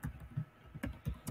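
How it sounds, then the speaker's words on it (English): Someone types on a computer keyboard in short, uneven bursts of close, crisp key clicks, with brief pauses between strokes and no speech. "Simply typing in what I need."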